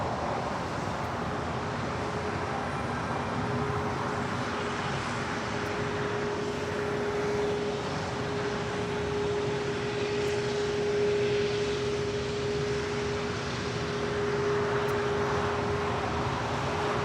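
Airliners depart from Los Angeles International Airport, a continuous distant engine roar with a steady tonal hum that stays even throughout, with no talk.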